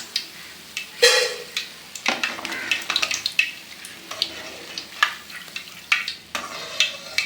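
Kara boondi batter frying in hot oil gives a steady close sizzle, punctuated by sharp ladle taps and clicks at irregular intervals.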